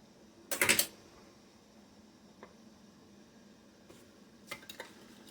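A metal jar lid clatters briefly and sharply while strawberry rhubarb jam is being canned, followed by a few faint clicks and light taps in a quiet kitchen.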